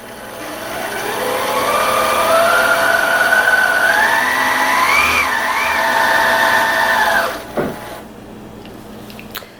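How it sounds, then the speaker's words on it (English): Sewing machine winding a bobbin under a slowly pressed foot pedal, a steady motor whir rising gradually in pitch and speed over several seconds, then cutting off abruptly with a small clunk. "now I'm going to slowly step on the foot pedal and let the bobbin wind"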